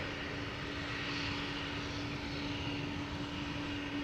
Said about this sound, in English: still standing here, but with its APU on, you can clearly hear that